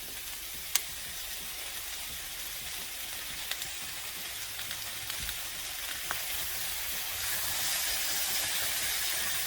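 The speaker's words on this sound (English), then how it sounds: "You could add your stir fry sauce." Vegetables sizzle in a pan with stir fry sauce, a steady bright hiss with a few faint clicks and small pops, slightly louder toward the end, no voices.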